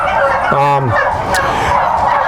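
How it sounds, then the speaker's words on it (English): A dense chorus of about 3,000 turkeys gobbles and chatters inside a farm barn, with one distinct gobble standing out briefly above the constant din. "How many turkeys do you have in here?"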